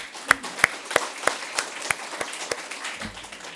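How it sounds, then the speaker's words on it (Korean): A church congregation applauds, a dozen or so loud, even claps at a steady beat, then thinning out toward the end. "그런 하나님께 감사의 박수를 드리게 되기를 바랍니다"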